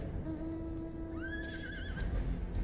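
A horse neighs in Final Fantasy XIV, one rising, wavering whinny over steady game background sound, fairly clear but not loud.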